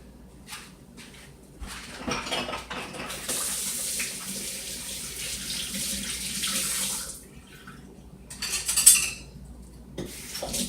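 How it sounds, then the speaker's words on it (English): Kitchen tap runs into a sink for several seconds as hands are washed, with splashing water, a few faint clinks of dishes around it, and the flow shut off before brief further handling sounds. "Let me wash my hands."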